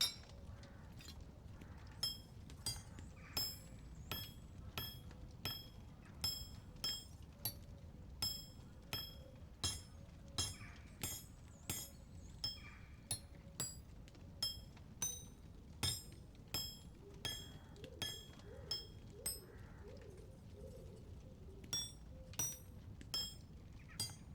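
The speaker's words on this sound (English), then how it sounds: "Pretty good hammering on both of those." Regular metallic hammer strikes ring out on an anvil at a blacksmith's forge in a medieval blacksmith video game, about two blows per second, steady and fairly loud over a low background rumble.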